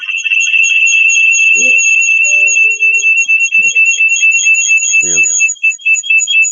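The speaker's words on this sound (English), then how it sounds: "alarm bell sounding there." A loud, continuous electronic alarm rings steadily throughout, a high pulsing tone, with brief bits of voices underneath.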